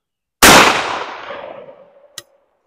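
A single loud, sharp blast from a 24 gauge shotgun loaded with number 4 buckshot at an outdoor range, followed by a long decaying echo, a faint metallic click and a brief tap near the end.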